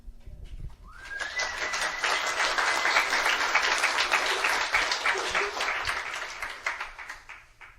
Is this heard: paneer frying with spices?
no